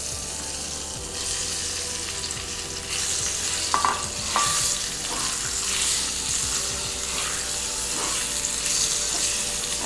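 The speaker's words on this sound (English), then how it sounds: "my mustard seeds are nicely spluttering" Continuous crackling and popping of mustard seeds spluttering in hot oil, close up, with occasional stirring clinks against the pan.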